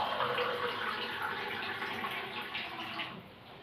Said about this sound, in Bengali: 1 কাপ জল দিয়ে দিলাম